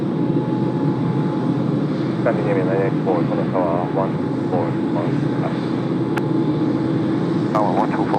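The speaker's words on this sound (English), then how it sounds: "Air India 357 heading off to Delhi today" Air India flight 357 to Delhi taxiing out at Tokyo Haneda airport, a steady loud jet engine roar throughout, with a person talking over it and brief radio chatter.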